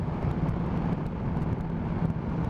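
BMW S1000XR motorcycle, a 2020 model, pulling in third gear on a road ride, heard as a steady, fairly loud engine drone with wind rush throughout.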